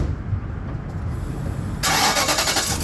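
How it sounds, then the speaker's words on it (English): An Infiniti QX56 with a loose exhaust cold-starts close by: a low cranking rumble gives way to a sudden loud, raspy roar as the engine catches and idles harshly. "as I let it cool off and then you cold start it, it's loud as F now"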